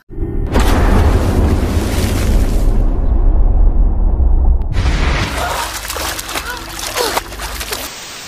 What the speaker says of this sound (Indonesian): Hantu itu pun membanting Farah hingga terjatuh ke kolam renang.